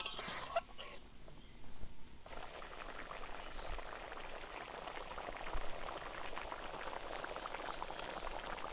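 A paneer curry bubbles and simmers in a pot, a dense continuous boiling crackle with a brief burst of louder bubbling near the start, steady and close without speech.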